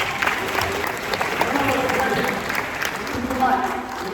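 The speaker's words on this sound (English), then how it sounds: "Give him a hand clap." Applause from a crowd at a youth motivational tour event, a steady wash of clapping running the full length with faint voices mixed in.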